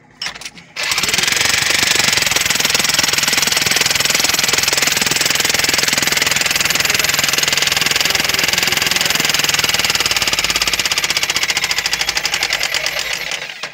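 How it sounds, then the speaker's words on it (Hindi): A mining machine's engine runs at a calcium fluoride mine tunnel site, cutting into soil. After a brief quiet start it becomes a loud, steady, close rattling and hammering roar that holds without a break to the end. "चल रहा है इंजन?"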